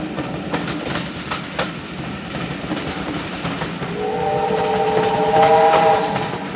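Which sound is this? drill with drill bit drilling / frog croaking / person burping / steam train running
steam train running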